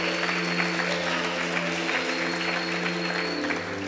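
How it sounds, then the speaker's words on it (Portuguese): A church congregation applauds during a worship service, a steady blanket of clapping laid over sustained, humming musical tones that run beneath it throughout. "Aplauda o Senhor."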